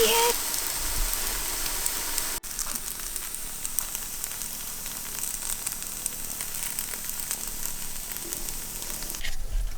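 Potato bread fries in oil in a pan, giving off a soft, steady crackling sizzle that runs throughout with a brief break early on. Faint background noise sits under it.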